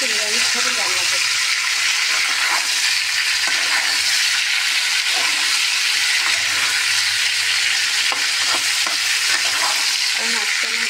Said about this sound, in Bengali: একটু ভালোভাবে নাড়িয়ে দেখা।